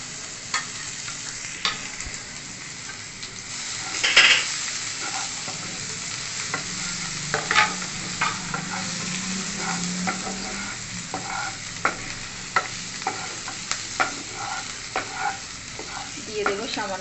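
Chopped onions frying with cumin seeds in a pan over low gas, a steady soft sizzle broken by repeated scrapes and taps of a spoon stirring, close and moderately loud with no talking.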